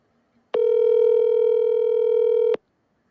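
A single steady telephone tone sounds alone for about two seconds, starting and stopping cleanly, loud and close, as a phone call is placed.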